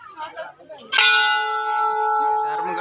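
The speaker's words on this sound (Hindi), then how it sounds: "खाजा मंदिर के मेन गेट पे घंटा टंगे हैं।" A large temple bell at the main gate of the Dharmgarh Baba temple is struck once, loud and close, and its bright ringing tone hangs and slowly fades after brief voices and crowd noise.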